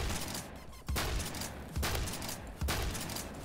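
Heavy KS-23M shotgun fired in the Phantom Forces game, three loud booming blasts spaced about a second apart over continuous gameplay noise, with no talk.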